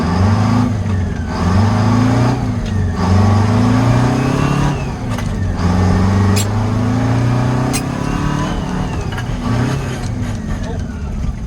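Detroit 8V71 two-stroke diesel in a truck with a 13-speed gearbox, revving loud and close in repeated rising pulls as it drives and shifts, a steady heavy roar throughout.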